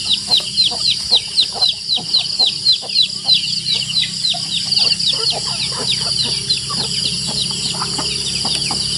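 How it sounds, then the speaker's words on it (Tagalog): Chickens on a rural farm cluck in a rapid, rhythmic run of short calls, loud and close, with a faint background hum and no one speaking. "Yung mga manok."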